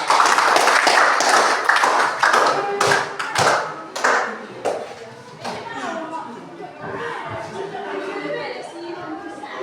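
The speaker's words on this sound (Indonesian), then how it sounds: "Tepuk tangan untuk kelompok 3." Classroom students give a burst of clapping for a presenting student group, sharp and close at first, then thinning into scattered claps and chatter.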